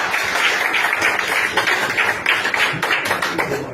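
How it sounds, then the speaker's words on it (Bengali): An audience at a seminar breaks into a burst of dense, continuous clapping that stays fairly loud and close for a few seconds. "একবার জোরে হাততালি মারুন তো"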